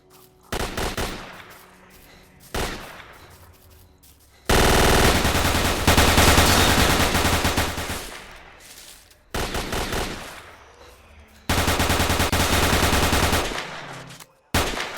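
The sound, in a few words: gunfire in video game STALKER Call of Pripyat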